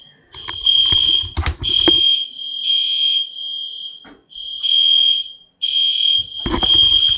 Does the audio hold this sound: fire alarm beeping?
yes